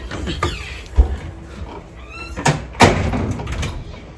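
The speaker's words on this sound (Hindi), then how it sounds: "नॉक करो अम्मा, दरवाजा खोलें" A door opens at home with a few sharp clunks and a sliding scrape spread over several seconds, set against quiet indoor background noise.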